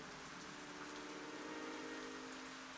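Rain falls steadily in the game Portrait of a Ghost, a soft, even hiss of drops with no voices and no change in intensity.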